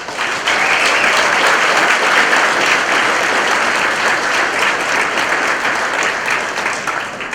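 Loud, continuous applause fills a Hall of Fame banquet room, honoring current members, holding a steady dense level from start to finish with no talk over it.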